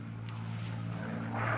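A plane flying on autopilot gives off a steady, droning engine hum with a low tonal rumble, continuous and even throughout.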